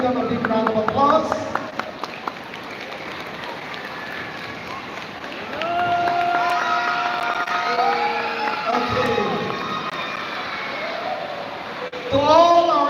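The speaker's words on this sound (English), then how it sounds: "Let's give them a big round of applause." An audience at a school honors convocation claps and cheers, the applause rising in the middle and again at the end, while a voice speaks over it.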